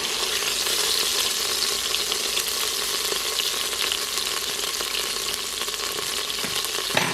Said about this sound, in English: Now that it's seared for several minutes, and it does pop a lot